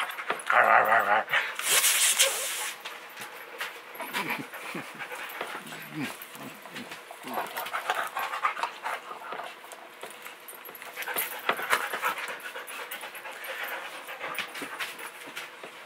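A dog pants and whimpers close by in a busy room, with jangling and pattering around it and people talking over the top.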